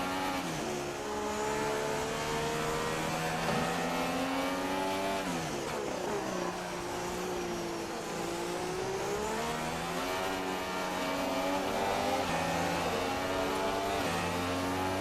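Formula 1 car in the F1 2016 racing game screaming flat out, a loud, continuous high-revving engine wail that climbs, briefly dips for a shift and climbs again without letup.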